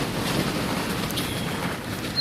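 Steady wind buffets the microphone with a low, rumbling roar and no other clear sounds.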